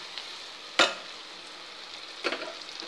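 Okra and onions fry in a pan with a soft steady sizzle, broken by two sharp stirring scrapes, close and alone without talk.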